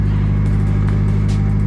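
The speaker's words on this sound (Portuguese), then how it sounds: "Tá com barulho bonito esse carro" Nissan Silvia engine idling close by, a steady loud low throbbing rumble with even pulsing, no talk over it, heard in a snowy residential setting.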